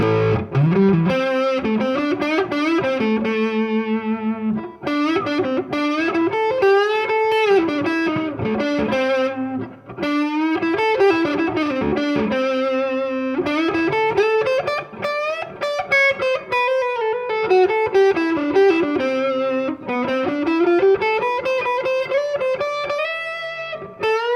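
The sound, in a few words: guitar through Tone Master Deluxe Reverb amp with distortion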